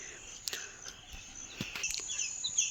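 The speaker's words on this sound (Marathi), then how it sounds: "आणि त्यात हा पक्ष्यांचा किलबिलाट" Birds chirp and twitter in a quiet hill village under fog, a faint high, steady chorus with a few sharper calls and no traffic.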